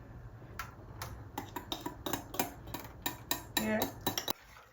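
Milk tart filling with warm milk being stirred in a pot, giving a steady run of close, bright clinks and scrapes at a brisk, even rhythm, with a brief spoken word.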